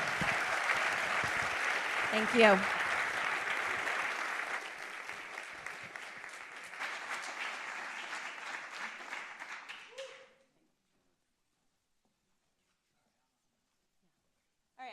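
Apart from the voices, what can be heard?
audience applause for the panel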